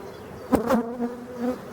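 Honeybees buzz around an opened hive during an inspection, a close, brief drone that swells with a couple of passes near the ear, with no voices.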